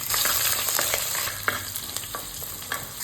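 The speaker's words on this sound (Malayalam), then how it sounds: "വെളുത്തുള്ളിയും കൂടി ഇട്ട് കൊടുക്കാം" Chopped garlic sizzles and crackles in hot coconut oil with mustard seeds as it is stirred, for a Kerala snakehead fish curry. The frying hiss is steady and close, with light scraping stir taps throughout and no talk.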